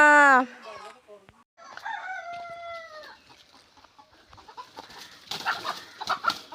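A rooster crows loudly up close in a home poultry coop, then a long drawn-out crow follows, with hens clucking and scattered rustling noises afterward.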